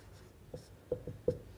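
A chemistry teacher writes out a Vilsmeier-Haack formylation reaction mechanism by hand, making faint, quiet scratching strokes. Three or four short marks follow in quick succession in a calm, silent room.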